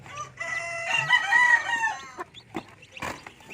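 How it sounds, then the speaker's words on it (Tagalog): A Rhode Island Red rooster crows once, close and loud, in a long harmonic call, followed by a few short clucks and scattered farmyard noises. "Ito, Rhode Island Red talaga ito."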